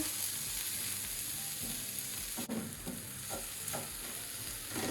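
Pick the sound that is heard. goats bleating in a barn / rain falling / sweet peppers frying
sweet peppers frying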